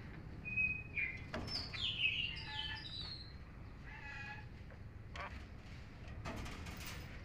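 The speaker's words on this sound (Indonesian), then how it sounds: "Ada suara kacer di sampingnya" An oriental magpie-robin sings nearby in short, bright chirps and whistled phrases over a soft noisy background, alongside other faint bird calls.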